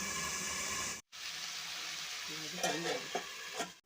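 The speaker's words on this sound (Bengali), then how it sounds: "আলুটাকে ভাজতে দিয়ে আলুটা একটু লাল লাল হবে" Raw potatoes frying in a pan for a fig (dumur) curry give a close, steady sizzle that cuts out briefly, then returns with a few scraping stirs near the end.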